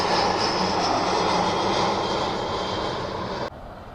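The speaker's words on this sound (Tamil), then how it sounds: "இங்கிட்ட இது ஃப்ளைட் வந்து டேக் ஆஃப் பண்ணி போயிட்டு இருக்கு." An airliner roars past close by on takeoff at KLIA airport in Malaysia, a loud steady jet roar with a whining high tone that holds for several seconds and then cuts off abruptly near the end.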